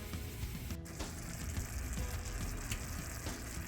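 A steady, faint crackling sizzle of apple frying in a pan, continuous and hissy with no voices.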